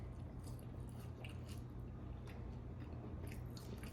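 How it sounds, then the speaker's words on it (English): A chewy breakfast item from a Polish partisan ration being chewed close to the mic, with soft wet mastication and squishy bites repeating over a steady low background hum. "It has a lot of like chew to it. You actually get a workout with your jaw with this."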